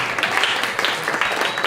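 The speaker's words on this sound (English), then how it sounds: "Let's give his group a round of applause." A round of applause for a group at a climate and community investment gathering, brisk claps from a modest crowd at close range, steady and short-lived.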